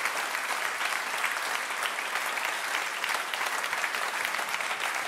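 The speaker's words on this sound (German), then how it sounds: "Standing Ovations, danke" A standing ovation from a lecture audience after a talk on economics, a thick, even roar of many clapping hands that holds steady and full for the whole stretch, with no talk on top.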